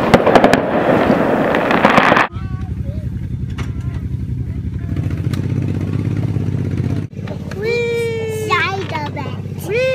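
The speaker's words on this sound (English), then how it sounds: "Now, who wants to see some fireworks?" Fireworks go off in a backyard Fourth of July celebration, a loud dense burst of crackling explosions at first, then rumbling noise with whistling, whining shells rising near the end, under murmuring voices.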